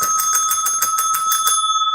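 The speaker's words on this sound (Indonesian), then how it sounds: "lonceng." A small bell rings in quick, even strikes, about ten in a row, then stops and leaves a bright metallic ring fading out; loud and close, with no voices.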